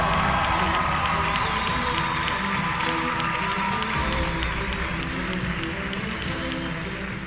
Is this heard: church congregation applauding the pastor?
yes